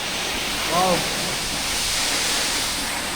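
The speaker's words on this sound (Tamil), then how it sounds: "இப்போ இங்கே ஃபால்ஸோட அந்த ஃபோர்ஸ் ரொம்ப அதிகமாக இருக்குது. மேலாம் அந்த சாரல் அடிச்சுக்கிட்டு இருக்குது." A waterfall in Thrissur district pours with strong force and flying spray, a steady broadband rush of falling water, with a brief voice-like tone rising above it near the start.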